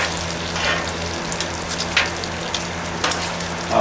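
Bacon sizzles in a pan at a campsite, a steady close frying hiss with faint crackles and small spatters throughout, no voices.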